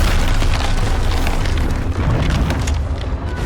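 Heavy cannon fire from French and Spanish naval guns bombarding British ships at the Battle of Trafalgar, 1805, forms a dense, continuous roar of booming blasts, loud and close, with no voices.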